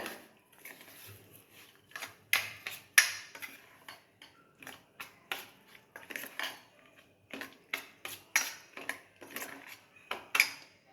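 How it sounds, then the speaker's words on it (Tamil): Wheat rava and curd being mixed in a bowl by hand: irregular soft clinks and scrapes of a spoon against the bowl, in short bursts with brief pauses, close and fairly quiet. "கோதுமை ரவாவை ஒரு பவுலில் போட்டுக்கலாம் கோதுமை ரவா மூடுற அளவு தயிர் ஊற்றிக்கோங்க நல்லா மிக்ஸ் பண்ணி விடுங்க"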